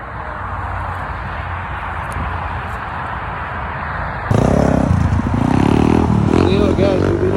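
Dirt bikes ride past on a Toronto street, a steady engine drone that suddenly swells louder and harsher as they close in, with people talking over it.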